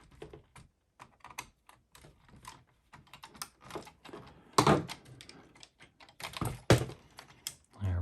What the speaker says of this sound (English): Let's loosen up a couple more screws here.